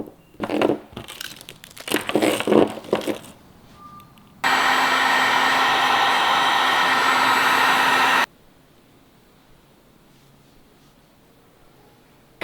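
A heat gun blows a loud, even roar for about four seconds while shrinking double-wall heat shrink tubing on a boat's 12V wiring harness, after some crinkly handling noises and before falling quiet.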